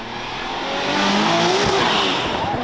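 A Corvette Z06 pulls away from a car meet, its engine roaring and swelling in a loud, close pass with tire noise and a rising, sweeping tone.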